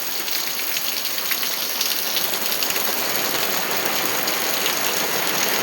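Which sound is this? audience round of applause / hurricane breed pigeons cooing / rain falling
rain falling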